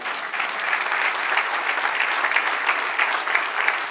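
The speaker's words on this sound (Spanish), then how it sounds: "Denle un aplauso al que reina." A church congregation applauds steadily and fairly loudly, a dense wash of clapping that holds evenly throughout with no voices over it.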